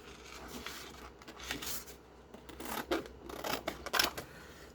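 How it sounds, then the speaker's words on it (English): Scissors snipping around the edge of a clear acetate sheet for a craft journal card, a quiet run of short, uneven cuts that grow a little crisper toward the end, heard alone. "I am going to cut about 1/8 of an inch all the way around"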